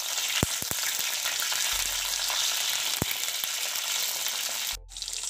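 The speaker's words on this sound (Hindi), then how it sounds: "अच्छा सा भून जाए तो हम सब्जियां सब एक एक करके डाल के भूनेंगे" Vegetables, including okra, sauté in a pan for sambar, giving a steady, close sizzle with a few sharp stirring clicks and a short drop in the hiss near the end.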